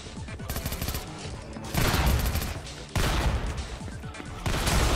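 Gunfire in a Fortnite match, bursts of loud rapid shots in a few clusters over busy game sound, close and repeated.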